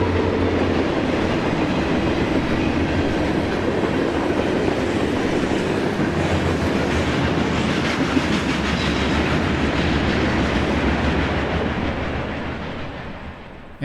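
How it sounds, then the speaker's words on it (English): Norfolk Southern freight train L28 rolls past milepost 189 at Snyderville, Ohio, a steady loud rumble of wheels and rail clatter that holds throughout and eases off slightly at the end, with no voices. "NS L28 runs past milepost 189 at Snyderville"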